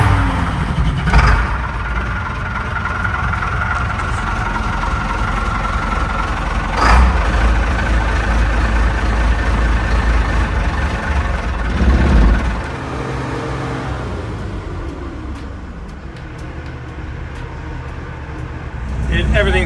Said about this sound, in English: Just gonna let it run up for a bit, and then we're gonna drive it out here.